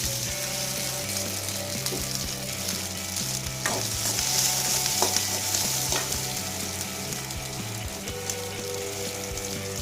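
Small shallots fry in oil in a pan, a dense steady sizzle running throughout with occasional clicks and scrapes from stirring, loud and close, with no one speaking.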